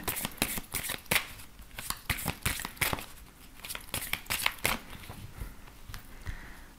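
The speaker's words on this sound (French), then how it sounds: "on va prendre une carte de l'oracle Amour universel." Cards from an oracle deck shuffled and handled before one is drawn, a rapid run of close, crisp flicks and riffles in uneven bursts, with no voice.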